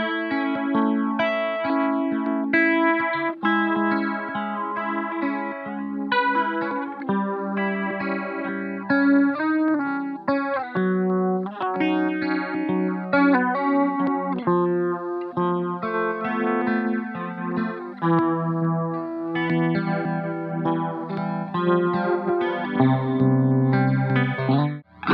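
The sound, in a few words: Stylus pedal Degrade effect in lo-fi mode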